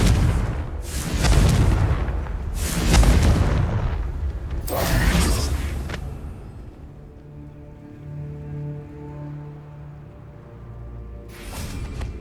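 An explosive Confringo spell in the video game Hogwarts Legacy goes off in a run of heavy, rumbling booms over several seconds, followed by quieter sustained tones and one more short burst near the end.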